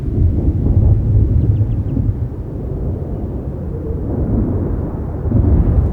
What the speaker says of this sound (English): For the animals that live here, the sound of the approaching storm is a familiar one.